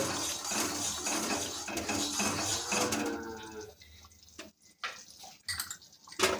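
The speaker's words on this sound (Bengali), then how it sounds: "চিনি যেহেতু যোগ করেছি এটাকে ভালোভাবে গুলে নেব" A spoon clinks and scrapes steadily against a bowl while sugar is stirred into a mixture for a Bengali doi katla fish dish, close and busy at first, then turning sparse with a few isolated clinks.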